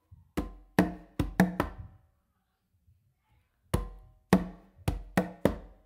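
Hand strikes on congas in an up-and-down beat exercise with close slaps, two clustered groups of five sharp, dry hits separated by a pause, close and clear with nothing else heard.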